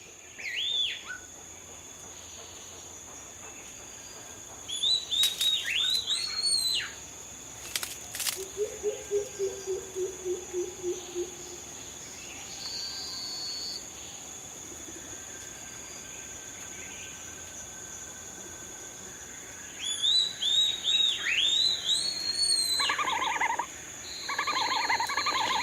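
A red panda gives high, thin whistles and twittering calls in short bursts with long pauses, over a quiet hum of insects and background noise, in Yunnan, China.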